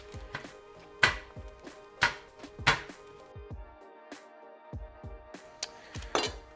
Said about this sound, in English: I like to take my giant chunks and just sort of break them up with my knife